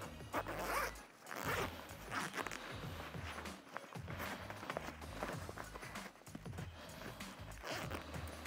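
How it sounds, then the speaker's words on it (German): A zipper is pulled repeatedly in quick rasping strokes to detach the sleeves of an Arbortec Breatheflex Pro work jacket, close and fairly loud, with fabric rustling between the pulls. "Und zwar kann man die Ärmel dieser Jacke einfach durch einen Reißverschluss abtrennen."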